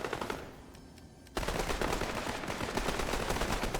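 Rapid automatic gunfire in the video game Fortnite, a burst of quieter shots followed by a sudden, loud, sustained volley of overlapping fire crackling from all directions.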